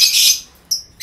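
A lovebird gives sharp, high chirps: a long bright burst, then two shorter calls after a pause, loud and close.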